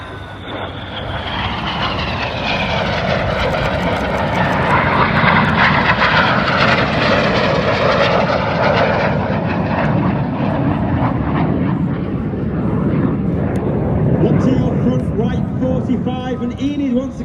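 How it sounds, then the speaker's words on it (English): A propeller aerobatic display aircraft performs a manoeuvre at the IWM Duxford D-Day anniversary airshow, its loud engine drone swelling and shifting in pitch as it passes, with an announcer talking over it. "They'll roll the correct way up as they complete the manoeuvre called boomerang."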